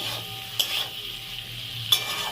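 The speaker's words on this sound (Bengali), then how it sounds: "একটু ভাজাভাজি করে নিই, তারপরে দেখাচ্ছি" A chili chicken sauce of sweet, salt and arrowroot fries softly in a pan, a low steady sizzle broken by two sharp utensil scrapes against the pan.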